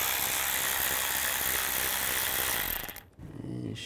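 A ratchet on an 8mm socket rapidly clicks, loud and close, loosening a bolt on a 2007-2013 Mini Cooper S during turbocharger work, then stops abruptly with a brief softer rattle after.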